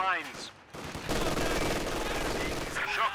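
An MG42 machine gun in the Company of Heroes 2 battle lets loose a continuous rapid burst of fire, loud and steady, with someone speaking over the start and end of it.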